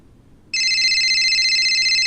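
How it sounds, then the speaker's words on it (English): A phone ringtone in a visual novel video game bursts in abruptly after a half-second of quiet, a loud, steady electronic trill that continues without break. "The ringtone soon comes to a stop,"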